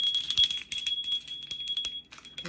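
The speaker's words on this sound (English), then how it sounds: "Listen to this little tinkle bell." A small souvenir bell shaped like the Statue of Liberty, from New York, rings with bright, repeated tinkling strikes close by, lingering shimmer between shakes and no talk.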